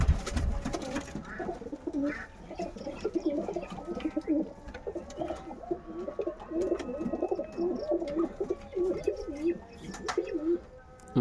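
Several Kaldom pigeons coo steadily and close by, their soft rolling calls overlapping in a continuous murmur, with occasional faint chirps from other birds.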